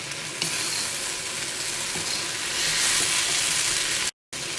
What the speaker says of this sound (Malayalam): ഇതിലേക്ക് വറുത്ത് വെച്ചേക്കുന്ന ചിക്കൻ ചേർക്കാം